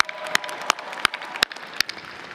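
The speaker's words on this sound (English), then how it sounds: "Another wonderful round of applause for Serendipity," Applause at a university undergraduate commencement ceremony, a crowd clapping under a handful of loud, sharp individual claps that ring out at roughly even intervals, fairly close.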